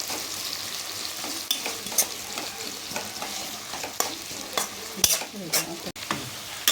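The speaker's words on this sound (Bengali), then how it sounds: "পেঁয়াজটাকে এখন আমি ভেজে নিচ্ছি হালকা করে।" Onions frying in hot oil left from frying fish, a continuous sizzle crackling close by, broken by repeated scraping and clinking strokes of a spoon stirring the pan, with a sharper knock near the end.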